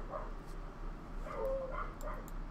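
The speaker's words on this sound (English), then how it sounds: "My dog's barking too." Dogs barking nearby indoors, a few short muffled barks and yips spread over a couple of seconds above a steady low hum.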